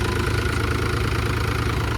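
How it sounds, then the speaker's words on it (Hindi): A tractor's diesel engine idles steadily and loudly up close, a continuous low rumble with an even knocking pulse during grain threshing work. "तो भाई मैं कर रहा हूँ ट्रैक्टर चालू"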